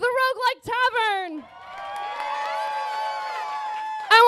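An audience at a tavern venue bursts into sustained cheering and whooping during a tournament season finale, following a brief voice and continuing steadily for several seconds.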